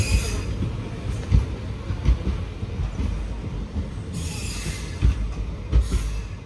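A passenger train runs past on the Ernakulam–Thrissur line near Pudukkad station, wheels clattering and squealing in an uneven rumble with rhythmic clicks over the rail joints, loud and close throughout.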